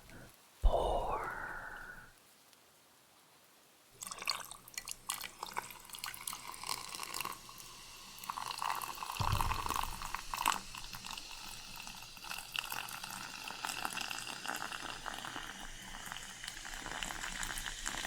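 Liquid poured in one long, steady stream from a can, close to the microphone and fairly quiet, with a continuous bubbly, fizzing wash that runs unbroken for about fourteen seconds after a brief earlier clatter and pause.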